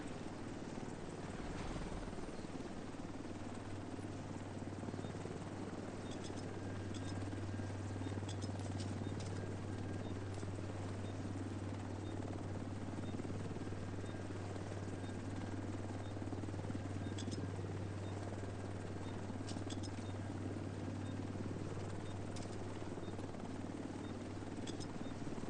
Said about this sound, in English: Helo almost at extraction zone.